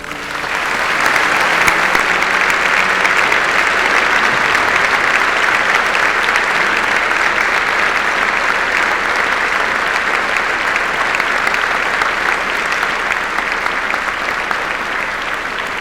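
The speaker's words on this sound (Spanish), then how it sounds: "pedimos para él e a súa familia un merecido aplauso" At an awards gala, a large audience gives an honoree a long, sustained ovation, the applause swelling quickly and holding loud and unbroken for about fifteen seconds.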